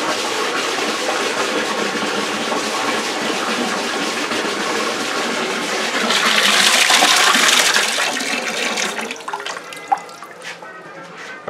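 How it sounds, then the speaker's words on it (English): Washing machine water drains down a laundry overflow drain, giving a steady loud rushing gush that swells for a moment and then tapers into gurgles and drips near the end. "You can see right before your very eyes the water's going down the drain."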